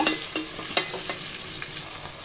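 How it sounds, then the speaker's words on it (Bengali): Layer chicken meat fries and is stirred with spices and browned onions in a pan, a loud close sizzle with repeated scraping stir strokes. "এখন মাংসগুলো দিয়ে দিব মাংসগুলো দিয়ে ভালো করে কষিয়ে নিব"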